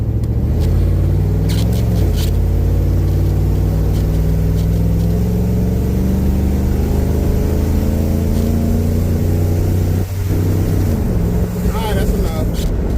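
LS-swapped old body style short-wheelbase truck driving fast on a road trip, a loud steady engine drone with rising gear pulls and heavy wind roar, people talking faintly inside the cab.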